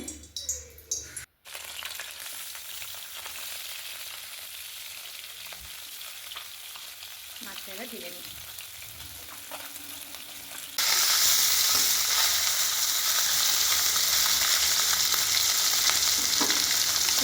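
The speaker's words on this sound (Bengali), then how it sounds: "আরও কিছু মাছ আছে এবার সেগুলোও ভেজে নিচ্ছি" Turmeric-coated fish frying in hot oil in a wok, with a steady sizzle and some stirring that swells abruptly into a louder, brighter crackle partway through, close up and without talk.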